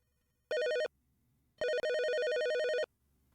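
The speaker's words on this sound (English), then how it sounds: "we've got a phone call coming in" Phone ringtone in the video game DB Detective, with a short electronic ring burst followed after a pause by a longer repeated ring, loud and clean with no talk.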